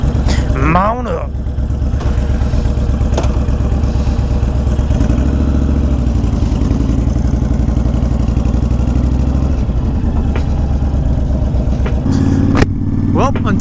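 A 2020 Honda Fury motorcycle cruising, its engine droning steadily and close, with mid-pitched rumble and faint wind, and a slight shift in tone near the end.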